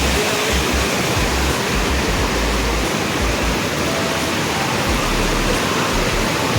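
River water rushing beneath a bridge over the Gaj river on the Kareri Lake trek in Himachal Pradesh, a loud, unbroken broadband roar close by, with no voices over it.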